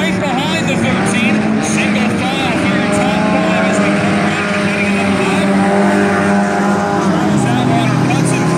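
4 cylinder class dirt track race cars battle side by side at a dirt raceway, engines droning loud and continuous throughout, with a race announcer talking over the roar.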